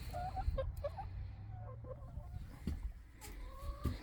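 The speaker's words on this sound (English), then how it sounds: "They're really friendly chickens." Free-range farm chickens, including leghorns, cluck and make short rising calls, a few close birds heard over a low rumbling background.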